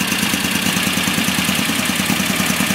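An engine fitted with Kadron Solex H40/44EIS carburetors idles warm and steady at about 1100 RPM, a close, loud, slightly lumpy throb from the cam running continuously with no voices.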